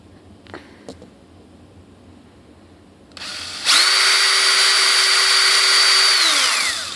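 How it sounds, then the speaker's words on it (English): A few faint taps, then a power drill whirs up loudly and runs steadily for a few seconds, drilling into an RC model glider's aileron part, before winding down. "I'd like to try to drill in between those two"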